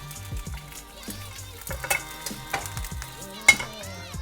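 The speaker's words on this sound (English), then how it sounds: "let's get a fried egg going" Egg frying in a pan for kimchi fried rice, a soft, continuous sizzle with intermittent scraping and stirring clicks from a utensil, close and fairly quiet.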